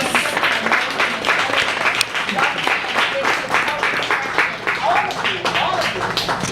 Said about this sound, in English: can we give him an applause?